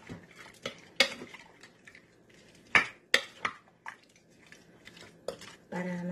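Garlic butter shrimp with garlic powder being stirred in a pan: intermittent clinks and scrapes of a utensil against the metal pan, close by, with faint background voices.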